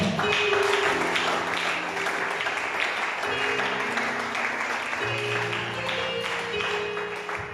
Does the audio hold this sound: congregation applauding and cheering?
yes